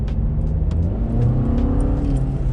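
A car fitted with a K&N aftermarket air filter accelerates hard, its engine revving loud and close in a steady, continuous roar with a rising intake note throughout.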